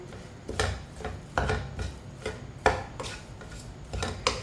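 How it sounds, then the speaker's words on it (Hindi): Mashed potato tikki filling with spices and fresh coriander being mixed by hand in a bowl, soft rubbing and squelching with irregular clinks of a spoon or bowl, close with no talk. "अच्छी तरह मिक्स कर लेंगे। आलू को ना अच्छी तरह मिक्स करना है।"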